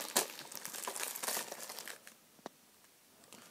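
Packaging crinkles and tears as an official Doctor Who figurine box is opened, a close burst of crackling plastic and cardboard that fades into a few soft rustles and a single sharp click.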